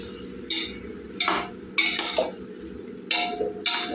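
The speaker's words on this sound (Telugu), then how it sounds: "ఇవన్నీ బాగా కలుపుకుందామండి, కలిసేలాగా ఉప్పు పసుపు." A spoon stirs mutton pieces with salt and turmeric in a metal pot. Five or six distinct clanks and scrapes of metal on metal ring out at uneven intervals over a low background hum, with no talking.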